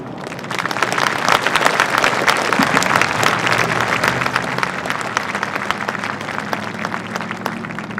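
Steady applause from a crowd at a Veterans Day celebration honouring Commander Snow, dense and continuous clapping filling the room for about eight seconds at a constant level with no speech over it.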